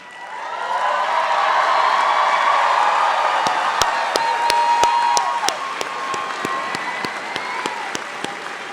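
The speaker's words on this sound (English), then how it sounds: "let's give them a round of applause again" Class of 2023 graduates at the Alliance Academy for Innovation graduation ceremony receiving sustained applause from a large crowd, broad and steady, with a few sharp individual claps and cheers standing out as it slowly fades.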